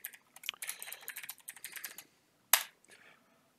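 Quick bursts of clicky typing on a computer keyboard, short runs of keystrokes separated by pauses, with a single sharper key hit near the end, close and fairly quiet.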